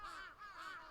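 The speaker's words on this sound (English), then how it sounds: "I could faintly hear the sound of birds chirping atop the phone lines" Faint cawing bird calls, two rising cries in under a second, form an ambient sound effect in the visual novel Chaos;Head Noah.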